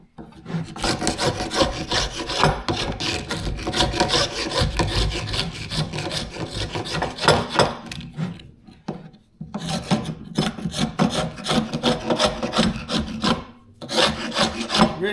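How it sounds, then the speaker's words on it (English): Rasping scrape of a tool working semi-soft glue off a wooden end grain chopping board, continuous and close with brief pauses near the end. "It's easier to scrape the glue off when it's still a bit soft."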